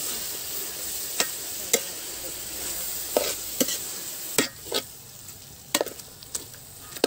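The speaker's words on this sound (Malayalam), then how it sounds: "നന്നായി ഇളക്കിക്കൊണ്ടിരിക്കുക" Onions with a pinch of salt frying for chicken curry as a spoon stirs them, a continuous close sizzle broken by repeated sharp scraping knocks against the pan, with no talk.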